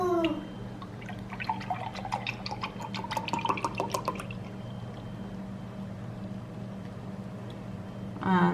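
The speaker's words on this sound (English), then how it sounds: "You just need to have 1 glass and pour" Strawberry soya milk is poured into a glass with a bright, trickling gurgle for a few seconds, followed by quiet background hum.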